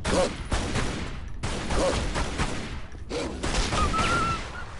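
Repeated gunfire bursts in the video game Tomb Raider Anniversary, with rapid shots in three loud volleys separated by brief pauses.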